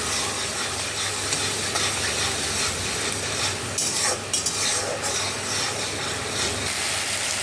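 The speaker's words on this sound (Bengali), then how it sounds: "দিয়ে এবার টমেটোটাকে ভালো করে কষিয়ে নেবো, যাতে টমেটোর কাঁচা গন্ধটা চলে যায়।" Tomatoes frying in a pan with salt and turmeric, a loud, steady sizzle with continuous stirring and scraping from a utensil, close up and with no talking.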